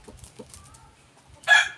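A gamecock rooster crows once near the end, a loud, close burst after a stretch of faint background clucks and quiet farmyard noise.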